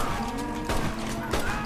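A herd of cattle in the Red Dead Redemption video game, lowing moos rising twice over a steady bed of game ambience and hoof noise, fairly close and moderately loud.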